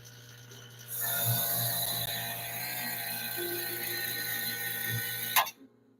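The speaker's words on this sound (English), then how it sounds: "I'm going to release the vacuum chamber." A vacuum chamber used for lost wax casting is released, letting out a loud, close, continuous hiss of rushing air that holds steady for several seconds before cutting off abruptly with a brief clunk; nobody speaks.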